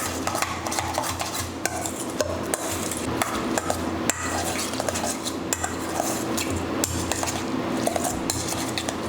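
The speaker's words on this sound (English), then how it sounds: "We're going to stir up the ingredients." Metal utensil stirring and scraping vegan lobster roll ingredients made with hearts of palm in a bowl, continuous clinking and scraping with occasional sharper knocks, close and loud, no voices.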